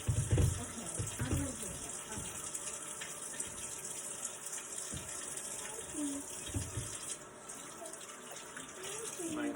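Water running from a tap while sourdough starter is topped up, a steady close gushing stream with a few soft knocks and a person talking faintly in the background.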